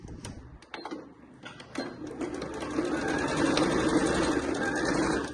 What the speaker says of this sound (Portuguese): Vamos costurar tudo, tá?